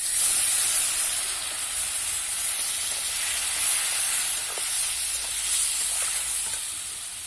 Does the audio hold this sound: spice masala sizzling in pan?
yes